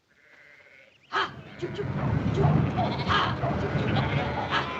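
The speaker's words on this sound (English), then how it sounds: "help me get those sheep on the move" Sheep bleat in a noisy flock after a sudden burst of sound, with animal calls and rustling continuing steadily, fairly close.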